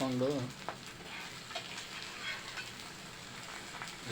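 An egg half-frying in a pan, giving a soft, low-level sizzle with light crackling that carries on steadily after a brief voice at the start.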